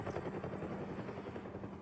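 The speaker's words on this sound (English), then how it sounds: "There's a helicopter." A helicopter in the Batman Telltale video game, a steady whirring rotor drone with a continuous fluttering texture, fairly faint and unbroken.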